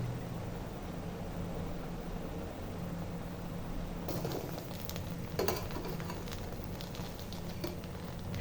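Rice nearly done in a pot on the stove gives off a steady bubbling hiss, and after a few seconds soft popping and crackling from the bottom of the pot joins in.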